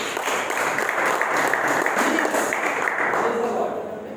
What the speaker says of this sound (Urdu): تالیاں بجائیں